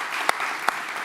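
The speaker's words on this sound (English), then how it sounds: "Give a round of applause for that" Scattered applause from an audience at a Litecoin summit, a brief patch of clapping with two sharper claps standing out, moderately loud and close, no talking over it.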